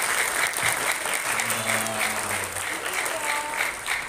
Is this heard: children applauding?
yes